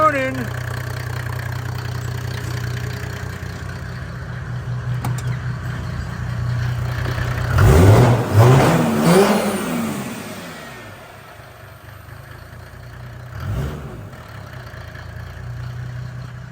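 OM606 diesel engine with turbos, running in a workshop: a steady idle, then a loud rev that rises and falls around the middle, settling back to idle before a brief second blip near the end.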